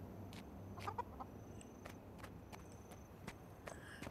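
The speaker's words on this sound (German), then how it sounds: "Hungriges Huhn. Ach, Hühnchen." Hungry chickens in the video game Guild Wars 2 give faint, brief clucks over a soft ambient hum, mixed with light footsteps and small clicks.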